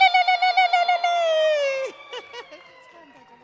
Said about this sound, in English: can we welcome our Nigerian professor in an African way and ululate?